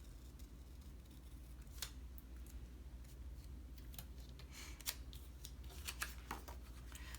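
Scissors snip through paper planner stickers in a quiet room, with scattered short crisp cuts at an irregular pace and soft rustling between them.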